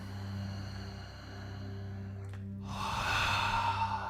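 During a guided morning meditation, a person breathes out through an open mouth. After a quiet, humming stretch, a long, breathy exhale rushes out clearly for over a second.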